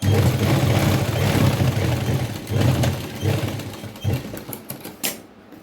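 A sewing machine stitches along fabric piping in close, rapid mechanical bursts, running in short runs that stop and restart several times.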